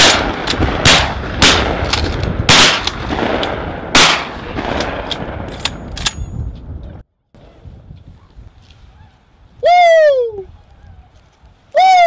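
Shotgun blasts fired at tundra swans during a hunt in Hyde County, a rapid volley of loud, sharp shots in the first half, followed by near swan calls with brief voices in the background.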